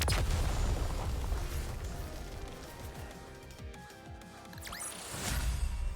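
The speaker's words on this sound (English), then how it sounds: "firecrackers." Firecrackers go off in the mobile game Nikke: Goddess of Victory: a dense run of bursting pops and booms over game music, with whistling rises and a final loud burst.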